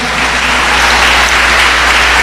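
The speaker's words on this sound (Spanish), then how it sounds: "Denle un fuerte aplauso al Señor porque Él vive." A church congregation at a Sunday school service applauds loudly and steadily, a dense wash of clapping that fills the whole moment with no voices standing out.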